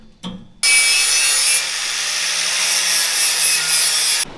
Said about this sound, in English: We're going to go ahead and start sanding this a little bit, just get this nice and flat.